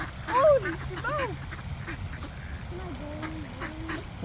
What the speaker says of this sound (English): The ducks are going nuts.